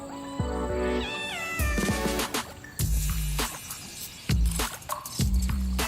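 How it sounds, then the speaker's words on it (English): Several high, thin kitten meows repeat in quick succession, close and clear, with small rustles between them. "Sounds like there's some baby kittens."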